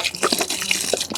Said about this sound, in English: And to that, we're going to dump in some water.